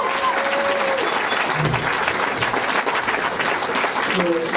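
A comedy show audience in Darmstadt applauds a comedian with loud, sustained clapping that fills the whole stretch, while a voice speaks briefly over it now and then.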